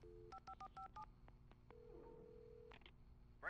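Telephone keypad tones from the video game Alan Wake: a quick run of about seven short DTMF beeps, then a few softer single blips and a steady line tone. A brief louder burst sounds at the end, with no talk.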